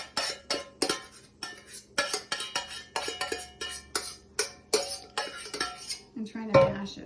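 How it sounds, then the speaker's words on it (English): Elderberries being mashed in a metal pot with the back of a spoon, giving close, steady, rhythmic clinks and scrapes of spoon on pot, repeated roughly every half second. "mash with the back of a spoon the elderberries to squeeze all the"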